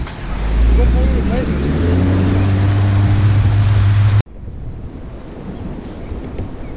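Sea waves slap broadside against a small fishing boat out sea bass fishing, a loud rushing surge mixed with heavy wind buffeting, then an abrupt cut to a quieter, steadier wash of open water.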